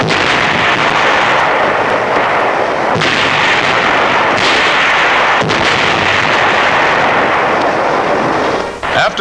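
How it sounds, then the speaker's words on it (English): Naval and air bombardment of Saipan during World War II: continuous loud artillery fire with heavy booming blasts rolling over one another, sharper reports standing out near 3, 4.5 and 5.5 seconds. "After 4 days of air and naval bombardment, United States Marines take over."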